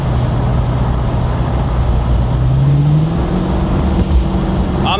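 A 1972 Pontiac LeMans Pro-Touring cruises at about 55 mph, its engine holding a steady low drone under road and wind noise, with a brief rise in pitch midway as the revs shift.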